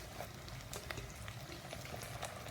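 Garlic going into a hot frying pan for a Kerala-style fish curry, giving a steady, close sizzling and bubbling hiss with a few faint clicks, no talking.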